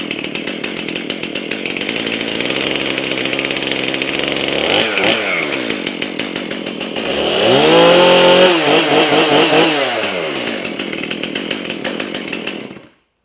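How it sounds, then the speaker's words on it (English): A chainsaw runs loudly up close, its engine revving up and down, rising to a higher whine near the middle before cutting off at the end. "blasting next to the chainsaw"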